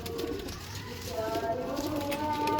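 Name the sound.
Kasuri pigeon cooing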